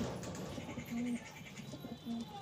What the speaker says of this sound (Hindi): बहुत उमदा कबूतर